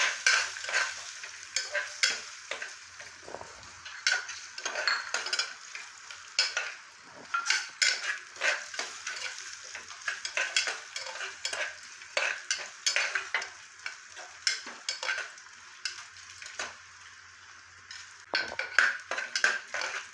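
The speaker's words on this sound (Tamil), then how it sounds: "இதுக்கு தேவையான முந்திரி சேர்க்குறேன். முந்திரி செவக்கணும்." Cashew nuts fry in hot oil with ginger in a pan for millet pongal, giving a steady close sizzle broken by frequent spatula scrapes and stirring clinks for twenty seconds, with no voices.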